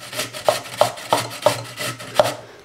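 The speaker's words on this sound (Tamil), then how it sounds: "உருளைக்கிழங்கு நல்லா தோல் எடுத்து வச்சுட்டு இந்த மாதிரி பெரிய கிரீட்டர்ல வச்சு நல்லா இந்த" A peeled potato rubbed over a large grater, with rhythmic scraping strokes at an even pace, each ending in a sharp knock, close and fairly loud, no voices.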